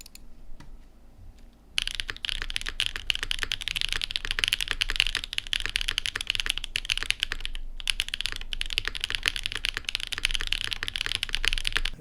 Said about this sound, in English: it's the full-size keyboard that sounds full corner to corner